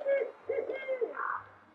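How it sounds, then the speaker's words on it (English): A barred owl giving a short series of deep, rhythmic hoots, clear and fairly close, alone against a quiet background. "Barred owls typically do 8 hoots."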